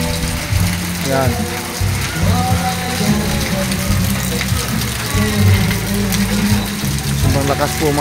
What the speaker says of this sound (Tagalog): Sobrang lakas po mga ka-idol ang ulan dito.